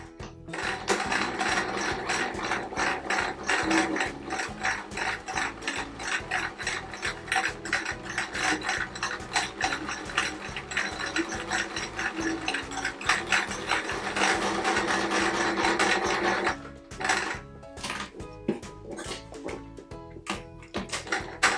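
A sewing machine stitches a quilt appliqué of a storybook hedgehog washerwoman, running in a steady fast mechanical chatter for most of the stretch, then breaking into shorter bursts near the end.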